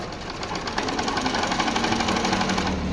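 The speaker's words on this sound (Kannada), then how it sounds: "ಆಮೇಲೆ ಫೋಲ್ಡ್ ಮಾಡಿಬಿಟ್ಟು ಈ ಕಡೆ ಎಡ್ಜಿಗೆ ಹೊಲಿಗೆ ಹಾಕಿ" A sewing machine runs steadily for about three seconds, stitching the folded edge of a blouse with a fast, even mechanical whir. It sounds close and fairly loud, with no talking.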